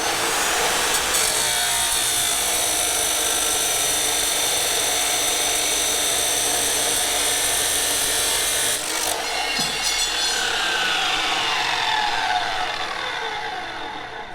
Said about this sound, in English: Let's cut this piece for the Brandon.